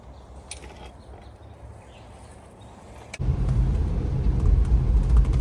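A 1995 Chevrolet Caprice Classic on new brakes rolls down the road: a low, steady road rumble and cabin noise that swells suddenly louder about a third of the way through and stays loud, with no one talking.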